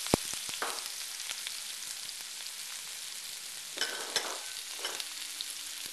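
Ginger, garlic and onions hit hot oil in a wok for a butternut squash Thai curry soup, a loud continuous sizzle with brief stirring scrapes and crackling bursts, no voices.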